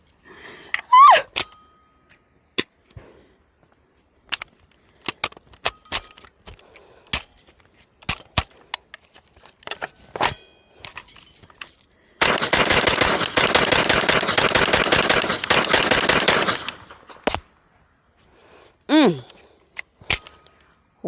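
An AK pistol with an ALG trigger fires single shots, then a long sustained rapid string of loud, close gunfire lasting several seconds, with a few scattered handling noises around it.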